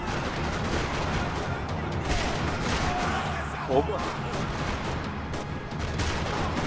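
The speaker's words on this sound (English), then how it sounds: "Another parking lot rattling with gunfire." Rattling gunfire in a parking lot in Max Payne 3 on PS3, with dense bursts of shots and impacts over a noisy backdrop, while a voice speaks briefly.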